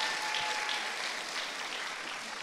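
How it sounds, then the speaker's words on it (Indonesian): Audience applause at a talk session, an even, sustained wash of many hands clapping in a large space at moderate level, with no break. "Tepuk tangan dong"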